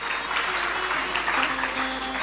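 Audience applause at a Shrimad Bhagavat Katha religious discourse, a steady, dense wash of many hands clapping that holds evenly throughout, with faint tonal murmurs beneath.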